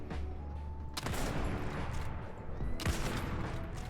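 A heavy video game gun fires in three-shot bursts, two loud blasts standing out over a steady background rumble with a long ringing tail after each.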